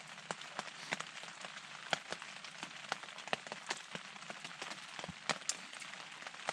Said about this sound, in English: that rain I think is gonna be here for the night.